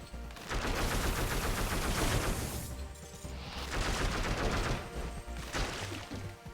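Rapid AK rifle fire from the video game Dead Cells rattles out in dense, loud bursts, with a short break midway before the shooting resumes.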